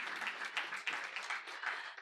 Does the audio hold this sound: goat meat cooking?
no